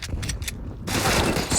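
CZ pistol fire in a Counter-Strike match on the Train map, sharp rapid shots and mechanical clatter, with a quiet stretch between bursts.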